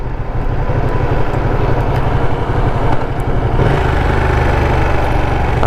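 A Ducati Panigale 959 motorcycle engine on a ride through Tamil Nadu villages, its loud, close, steady rumble with fast pulsing beats that shift slightly in pitch partway through.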